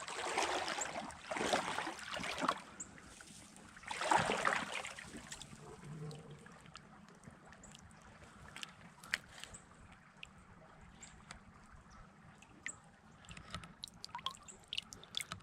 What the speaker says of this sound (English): Set your camera up and just listen to the creek.